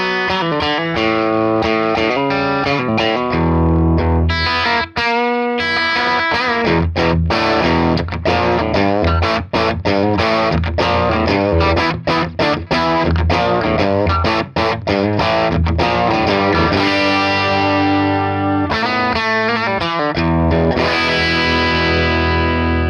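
Electric guitar played through a Fender Bassbreaker 18/30 EL84 tube amplifier, loud and continuous with crunchy overdriven chords and riffs, dense sustained harmonics and brief rhythmic stops throughout.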